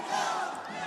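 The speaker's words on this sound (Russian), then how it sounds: "вы слышите, скандируют болельщики" Fans in a boxing arena chant loudly during a heavyweight semifinal bout, a dense crowd roar filling the space for a brief moment.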